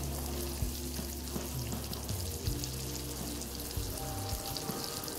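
Eggs frying in a video game kitchen, a steady bright sizzle and crackle running continuously with layered game music underneath and no talking.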